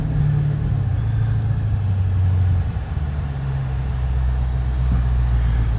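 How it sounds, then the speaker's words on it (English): Dodge Challenger 1320 Drag Pak driving: a loud, steady low engine rumble and road drone close by, with a brief dip midway before the hum settles back in. "This car is just so much fun to drive."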